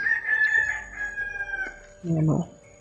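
A wild junglefowl rooster crows in a long, drawn-out call, then a short, harsher burst of squawking follows close by.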